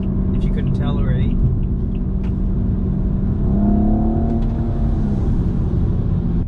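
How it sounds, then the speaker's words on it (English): A turbocharged six-cylinder engine in a 2014 BMW 235i coupe revs, its steady drone swelling into a rising, strained note midway, then settling, heard from inside the car over a constant road rumble. "I'm getting a little bit addicted to the 6-cylinder turbo noise"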